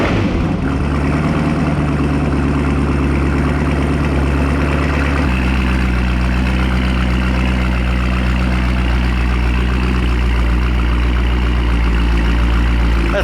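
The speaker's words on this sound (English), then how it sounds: "Got a Borla exhaust on here." A car engine with a Borla exhaust idles steadily with a deep, throaty exhaust rumble, loud and close, the tone dropping slightly partway through.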